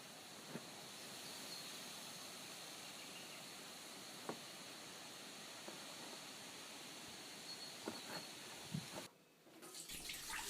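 Grey water from a kitchen sink pours steadily out of a white pipe into a tub, a continuous close splashing stream with a few faint knocks, stopping briefly near the end.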